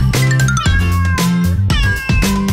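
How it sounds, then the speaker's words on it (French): Three or four loud, close cat meows in a French children's song, repeated in a regular rhythm with musical accompaniment beneath them. "Je vois un chat. Miaou, miaou, miaou."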